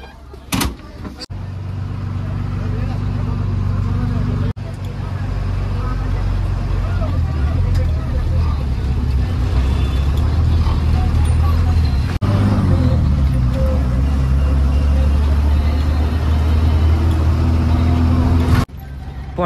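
A decorated HRTC bus at a Nahan bus stand rumbles with a low, steady diesel engine drone as it gets ready to pull away. Voices and general babble sit over it, with a few sharp knocks along the way.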